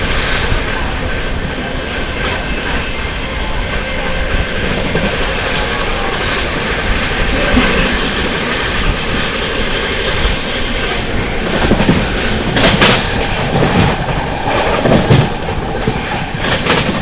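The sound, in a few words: Amrit Bharat Express train running on rails, clickety-clack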